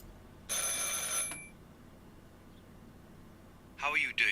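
A telephone rings in the Martha Is Dead video game, a short electronic ring with harmonic tones lasting under a second. Quiet follows, then a voice starts speaking near the end.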